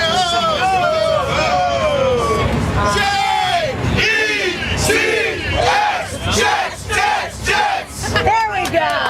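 A crowd roars and chants for the New York Jets at a football game, loud and close, with rising and falling waves of yelling, whooping and massed voices that swell repeatedly across the whole stretch.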